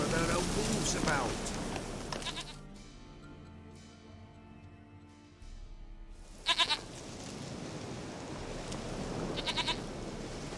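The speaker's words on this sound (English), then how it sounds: "Goat of mine, dearest, sweetest goat." A goat bleats in The Witcher 3, a drawn-out, tonal cry in the middle, set between stretches of outdoor ambience, with voices talking around it.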